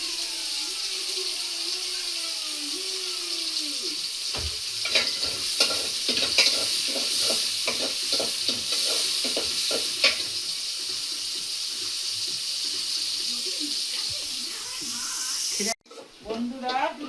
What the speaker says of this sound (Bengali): পেঁয়াজটা ভেজে নিব। পরিমাণ মতো তেল দিলাম।